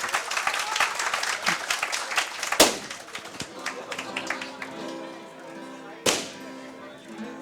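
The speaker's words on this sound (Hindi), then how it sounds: "एक बार जोरदार तालियां बजा दीजिए Trim Pius के लिए" An audience at a farewell party bursts into strong applause, a dense patter of clapping with two sharp cracks, while a voice speaks over it and the clapping gradually thins out.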